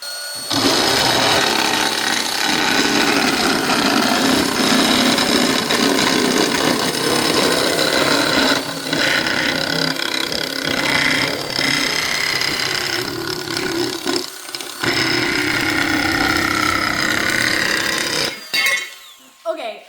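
A Fein cordless nibbler and shear chews along a marked line in sheet material, giving a loud, continuous, rattling cut with a few brief dips before stopping near the end.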